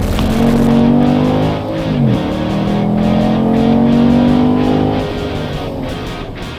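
A 2014 Jeep Grand Cherokee is driven hard around an F1 race track, its engine roaring loud and close as it revs, rising and easing through gear changes, with a brief tire squeal partway through.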